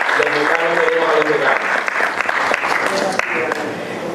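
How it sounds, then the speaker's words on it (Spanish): An audience gives a guest a loud, sustained round of applause at an event honoring musicians and composers, with voices and cheers mixed into the clapping. "Un aplauso para don Jochi."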